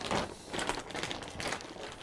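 Vacuum packing bag crinkling close up, a run of rustling bursts with no speech.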